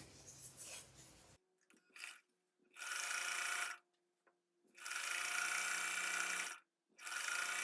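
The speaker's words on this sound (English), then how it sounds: "So I'm going to sew a blue strip on the side of this" A sewing machine stitching a blue strip onto a quilt in three bursts of rapid whirring chatter, close and clear, separated by short quiet pauses with small handling clicks.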